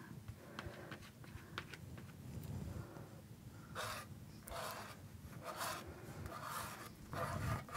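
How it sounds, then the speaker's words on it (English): Palette knife scraping acrylic paint across canvas while painting a sky in a city skyline landscape, giving repeated soft rasping strokes in short bursts, close and fairly quiet, with no talking. "I'm just going to scrape some color into the sky here"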